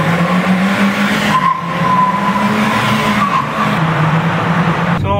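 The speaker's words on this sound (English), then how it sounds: "We are taking the B class for a spin on the racetrack" A Mercedes B-Class is driven hard around the BIC Formula 1 track. A loud, sustained engine drone rises and falls, and tire noise runs under it for several seconds, heard from close by.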